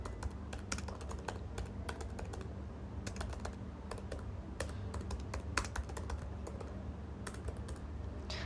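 Rapid, irregular clicking of keys on a Mac computer keyboard while code is typed, close and fairly quiet, with brief pauses between bursts and no talking.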